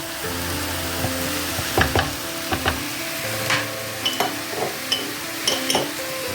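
Tomato paste stews and sizzles steadily in a pan, with a few sharp clinks and scrapes of a utensil stirring against the pan.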